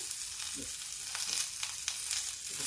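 Broad beans sizzle softly in a pan over low heat, a constant frying hiss with a few scraping stirs.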